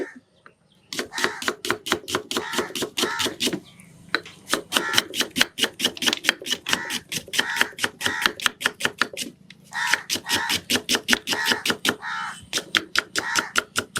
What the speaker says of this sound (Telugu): వాటిని ఇప్పుడు కట్ చేసి పెట్టుకుందాం ఇలా సన్నగా ఉల్లిపాయలు కటింగ్ చేసి పెట్టుకొని